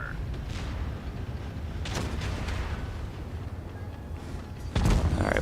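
A tank cannon firing in World of Tanks Blitz, heard as a deep, heavy boom near the end over a steady rumbling engine bed.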